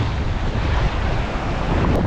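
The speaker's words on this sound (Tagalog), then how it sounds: "Lakas ng alon." Strong waves at sea, heard as a steady, loud, broadband roar with gusting wind buffeting the microphone and no distinct breaks between swells.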